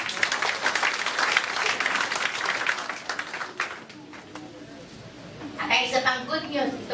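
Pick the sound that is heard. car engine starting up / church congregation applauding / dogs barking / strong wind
church congregation applauding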